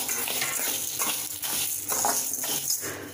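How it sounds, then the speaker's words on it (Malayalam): Rice dry-roasting and being stirred in a Chinese wok (cheenachatti), giving a steady scraping, rustling texture with repeated stirring strokes, close and moderately loud with no talk. "ഇതിലൊരു ചീനച്ചട്ടി വെച്ചിട്ട് അതിന് നമ്മൾ ഈ അരി നല്ലതുപോലെ ഒന്ന് വറുത്തെടുക്കാം."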